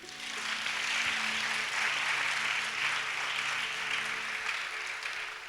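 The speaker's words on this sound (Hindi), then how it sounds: "विश्वास करते हैं तो जोर से ताली बजाइए।" A church congregation at a fasting prayer session claps loudly, a dense, sustained burst of applause that holds steady for several seconds before easing slightly.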